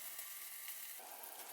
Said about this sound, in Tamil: சேர்த்துட்டு இந்த சர்க்கரை பாகு நல்லா கொதிக்க விட்டுருங்க.